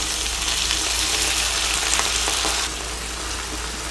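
Chicken pieces fry with dried chillies and garlic in a pan, giving a loud, dense, continuous sizzle that eases slightly near the end, with no voices.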